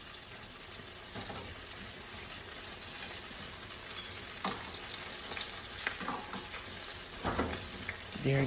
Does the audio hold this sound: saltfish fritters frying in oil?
yes